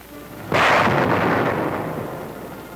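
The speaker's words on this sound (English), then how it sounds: "mortar fire may be placed well back from the beach to interfere with enemy observation" A 4.2-inch chemical mortar fires once, a single loud, near blast with a sudden onset that rolls on into a long, slowly fading rumble with no voices.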